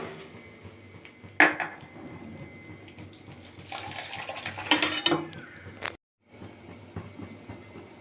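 Cooked greens tipped from a wok into a bowl in a home kitchen, heard as a wet sloshing pour with scraping clatters, building to a louder splash near the middle before a brief silence and a quieter tail.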